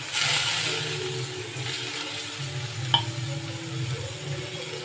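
Tomatoes frying in a pan for gobi 65 sukka give a steady, moderate sizzle under a low background hum, with a single sharp clink from a utensil near the middle.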